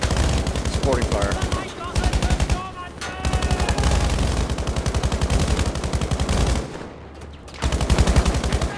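Machine gun fire rattles in the Battlefield 5 video game, long rapid bursts with brief pauses between them, loud and close over layered battle noise.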